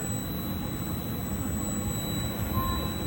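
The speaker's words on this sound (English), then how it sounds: "As you can hear my meter, it's on continuity and it's beeping." A multimeter set to continuity beeps on the condensate drain float switch wires of an HVAC unit, a thin steady high-pitched tone holding over a low hum, with a brief extra chirp near the end.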